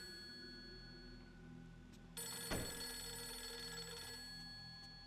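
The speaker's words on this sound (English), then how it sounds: "The phone's ringing." A rotary telephone rings inside a game world in Fatal Frame 3, its bell trilling steadily and fairly close after a quiet ambient stretch, with a low drone underneath.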